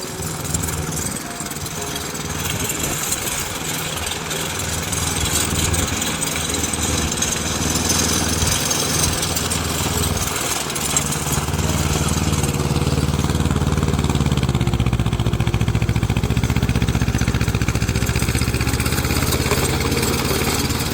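A tractor engine drones loudly and continuously while puddling a muddy paddy field, its heavy, close rumble with a rattling mechanical chatter, steady throughout and swelling slightly in the second half, with no talk.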